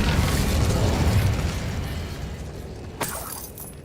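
Incendio fire spell in Hogwarts Legacy, a dense roaring whoosh of flame that fades slowly, with a sharp crackling pop near the end, loud and close.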